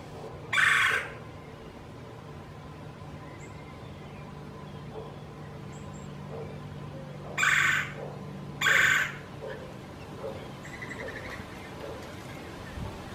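A red-bellied woodpecker gives three loud, harsh calls, one early and two close together later. Each is separated by quiet stretches of faint woodland ambience and low background hum.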